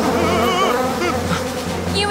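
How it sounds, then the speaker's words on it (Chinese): A swarm of bees buzzes loudly and continuously at close range, a dense droning hum with wavering pitch as the insects fly around, heard in a children's cartoon about a beehive. "你们看，蜂群又飞回来了。"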